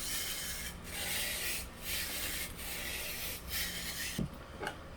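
A knife blade strokes back and forth across a wet sharpening stone in a steady rhythm, each close, gritty rasping pass separated by brief pauses, with a couple of light taps near the end.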